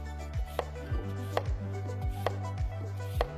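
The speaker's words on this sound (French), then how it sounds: "il suffit simplement de le maintenir fermement et de pomper toute l'huile" A hand-operated oil extractor draws engine oil out through a hose, with a rhythmic series of about six pumping strokes, each a low thump and squeak, repeating steadily up close with no talking.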